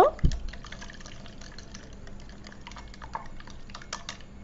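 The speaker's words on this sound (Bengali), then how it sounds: "চিনি আর ডিম ভালোভাবে মিশিয়ে নিব" A utensil mixing egg and sugar for pudding in a bowl makes rapid, irregular light clicks and taps, close and fairly quiet, with no talking.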